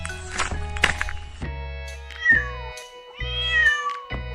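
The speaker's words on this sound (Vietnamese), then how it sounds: "Con mèo." A cat meows several times in short, near, plaintive calls with gaps between them, some rising and bending in pitch, amid light thumps and rustling.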